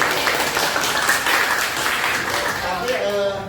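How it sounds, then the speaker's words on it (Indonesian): A classroom group claps in steady applause, a dense wash of hand claps lasting throughout, with a voice speaking over the final moments. "berikan aplaus"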